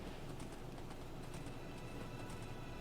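Horse hooves clip-clopping in Minecraft while riding a horse along roads, a steady, quiet run of soft rhythmic clops under faint background game noise, with no talking.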